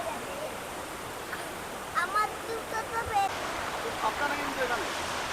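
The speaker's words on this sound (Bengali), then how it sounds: "এই হচ্ছে ধারাগিরি ফলস" Dharagiri waterfall pours in a steady, broad rush of falling water, with faint voices and a few brief sounds rising over the constant roar.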